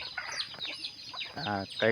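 Chickens on a rural village farm cluck in short close bursts, the calls rising at the end, with voices mixed in among the birds.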